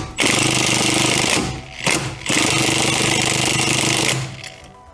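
An impact wrench rattles loudly and up close as it zaps off the sway bar end link bolts during a coilover install on a BMW E46, with two sustained hammering bursts split by a brief pause.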